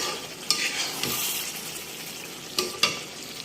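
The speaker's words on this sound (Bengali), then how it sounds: "আমার গোস্তটা অনেকটা কষানো হয়ে গিয়েছে" Chicken meat frying down in a pot with spices sizzles steadily while a spoon stirs it, giving a few sharp scraping clinks against the pot.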